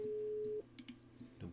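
A telephone busy signal from the Rusty Lake Hotel video game sounds as a single steady tone for just over half a second, followed by soft faint clicks and low background music.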